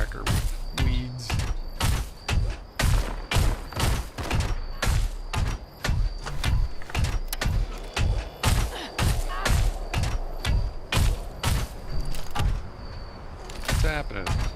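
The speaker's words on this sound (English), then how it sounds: "Oops, firecracker weeds." Firecracker weeds in Fallout 76 crackle and pop in a long, rapid string of sharp, loud bursts, some irregular and some evenly spaced, with a voice talking over them.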